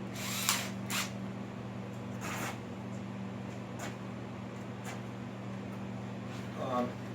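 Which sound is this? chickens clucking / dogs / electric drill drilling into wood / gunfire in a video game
electric drill drilling into wood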